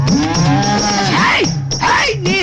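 A buffalo moos loudly and close by in a village during Sankranthi festivities, giving two or three long, drawn-out bellowing calls in quick succession.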